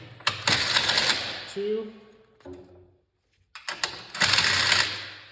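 A 5/16 socket ratchet clicks in quick rattling runs while bolts come off a Cub Cadet snowblower, loud close bursts separated by pauses, with someone speaking briefly between them.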